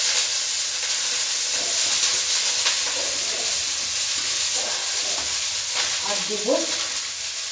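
Chicken with cabbage, capsicum, carrot and beans stir-frying for soup in a home kitchen, a steady close sizzling hiss with occasional stirring scrapes, and a few words spoken over it.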